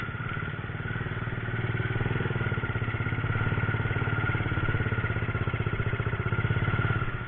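A Honda C70 motorcycle engine with racing modifications runs steadily at a low, throbbing idle with a rapid mechanical pulse, close and continuous throughout with no talking.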